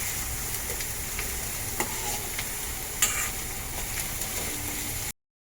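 Chopped onions sizzle steadily in a hot pan while crab is being cooked, with occasional clinks and scrapes of a spoon stirring through the continuous frying hiss.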